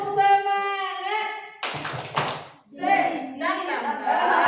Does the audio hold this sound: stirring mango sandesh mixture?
no